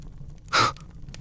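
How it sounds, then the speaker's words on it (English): A man waking abruptly lets out a single sharp, breathy gasp, loud and close, rising and falling quickly against a faint low background hum. "Uzaya woke, gasping."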